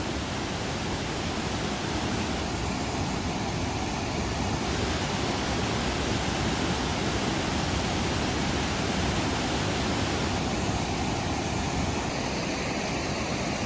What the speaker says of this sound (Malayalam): വഴി ഇങ്ങനെ താഴോട്ട് വെള്ളം ഒഴുകുന്നുണ്ട്